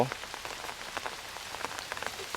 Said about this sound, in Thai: ฝนตกจ้าพี่น้อง